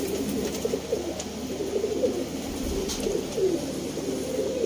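Baby parwazi pigeons in Sialkot give soft repeated low coos, close and fairly quiet, over a steady background hiss.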